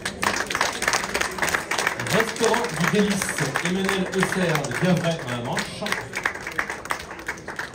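An audience at a best-breakfast and brunch contest final claims steady, mid-sized applause for a finalist while an announcer talks over the clapping throughout.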